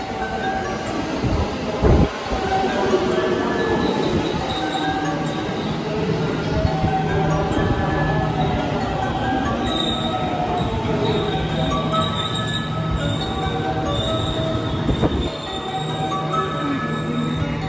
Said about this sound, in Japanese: 1番乗り場に電車が参ります。